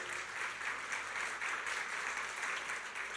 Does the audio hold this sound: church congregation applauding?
yes